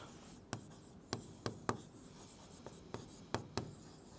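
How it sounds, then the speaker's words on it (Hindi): Chalk or marker writes an equation on a classroom board, a series of about ten sharp taps and short scratchy strokes in an irregular rhythm, close and fairly quiet, with no speech. "यहाँ पे लिख देंगे"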